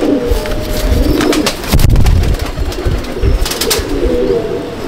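Pigeons coo steadily inside a loft of yellow-eyed racing pigeons, a dense, continuous murmur of overlapping low calls with occasional rustling and wing movement close by.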